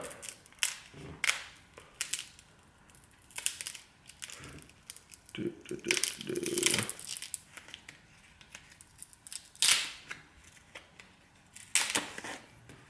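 Old padding being peeled off a Sennheiser GSP headphone headband, heard as irregular close bursts of tearing, crinkling and sticky ripping separated by quieter pauses.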